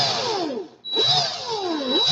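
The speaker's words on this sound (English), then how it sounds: "Drill in reverse." Power drill whirring in reverse, loud and close, in two bursts with falling and rising motor pitch and a short pause between them, no talking.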